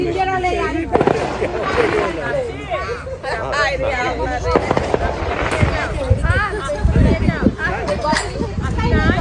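Fireworks and firecrackers crackle and pop on US Independence Day, dense irregular bangs mixed with background crowd chatter, while someone talks over them throughout.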